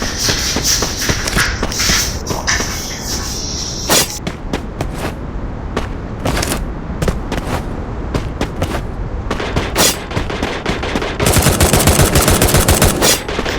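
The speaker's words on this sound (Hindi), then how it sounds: "अब यहाँ पीछे भी मुझे बहुत सारे फुटस्टेप्स सुनाई दे रहे थे" Footsteps and gunfire in a battle royale shooter: dense rapid bursts of automatic fire and sharp single shots run throughout, loud and close, with shuffling steps and movement noise mixed between the shots.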